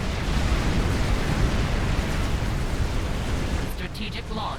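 Nuclear missile launch in Supreme Commander: Forged Alliance, a dense sustained roaring rumble like a continuous explosion, loud and steady throughout, with a few faint higher crackles near the end.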